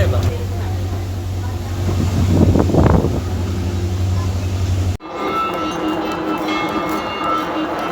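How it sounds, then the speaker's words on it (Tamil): Inside a moving passenger train boarded at Kondavil and heading toward KKS beach: a steady low rumble that swells briefly, then cuts abruptly to a different, lighter carriage ambience. "நாங்கள் இப்போ ட்ரெயினுக்குள்ளே ஏறி இருக்கிறோம்"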